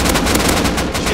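Rapid automatic gunfire from the survival video game Rust crackles in a dense, continuous burst during a base raid, loud and close with overlapping shots.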